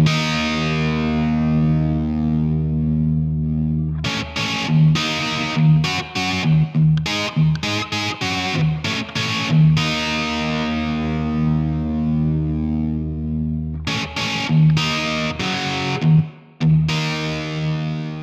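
A song opens with a heavily distorted electric guitar tuned down a half step, a sustained droning note giving way to choppy, rhythmic riffing with abrupt stops, loud and up front with no voices.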